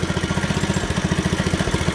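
An old-school mini bike's small engine idles smoothly right after a carburetor cleaning, a steady fast putter with even, rhythmic pulses, close and moderately loud, with no talking.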